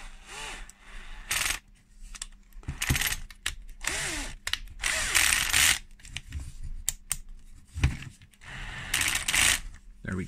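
Small M3x6 countersunk self-tapping screws are driven into the holes of a model CAT 973K chassis, giving intermittent close clicks, scrapes and ratcheting turns in short bursts with pauses between.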